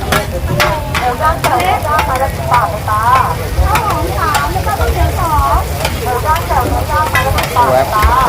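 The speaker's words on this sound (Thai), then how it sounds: "เขาทอดเหมือนไข่เจียวแล้วเพื่อนครับกรอบเพื่อแน่นอน" Pad thai frying in a pan at a Thai market stall, cooked crisp like an omelette: a loud continuous sizzle with stirring and scraping, and faint voices in the background.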